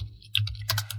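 Quick clicks of a computer keyboard as a printer name is typed, a few close keystrokes over a steady low hum, with no talk.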